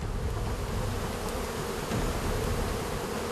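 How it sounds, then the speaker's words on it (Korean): A swarm of Indonesian honeybees that nest high in tall trees, a dense, steady buzzing drone that fills the whole clip at moderate level, with no voices. "주로 20-30m 이상의 높은 나무에 집을 짓는 인도네시아의 꿀벌."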